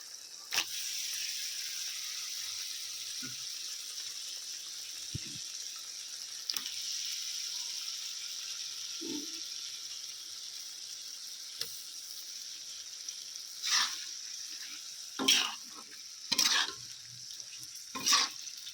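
Washed mutton frying in spice masala for a thin curry, with a low steady sizzle and occasional soft stirring scrapes, turning into a quick cluster of louder clatters toward the end.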